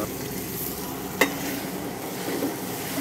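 Ground shallots sizzle and fry in a pan while being stirred for a Malay beef curry, a steady crackling hiss with one sharp clank of a utensil against the pan midway.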